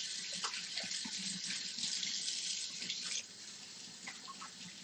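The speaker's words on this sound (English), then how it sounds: "I'm going to wash my hands again." Hands are washed under a running kitchen tap, a steady hiss of flowing water with faint splashes, close by, cutting to a softer stream near the end.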